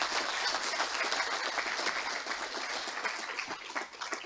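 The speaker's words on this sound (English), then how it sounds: "that may have been the longest clap in history" A large audience at a university opening ceremony applauds the arriving president with dense, sustained clapping that holds steady at moderate distance and thins slightly toward the end.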